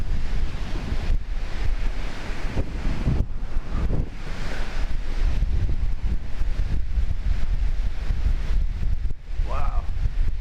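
Strong wind blows without letup at a remote lakeshore campsite on a cold day, buffeting the microphone with heavy roaring rumble, and waves may be breaking along the shore beneath it. A voice is heard briefly near the end.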